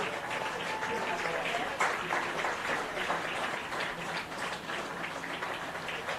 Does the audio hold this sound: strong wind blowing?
no